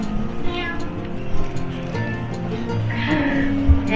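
A cat meows in a cat cafe in Osaka, several short close meows amid background chatter and room noise, with people talking nearby.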